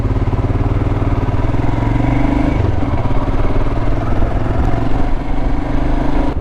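A Royal Enfield Himalayan motorcycle's tappet engine idles up close, loud and steady, with an even mechanical throb and light clatter throughout.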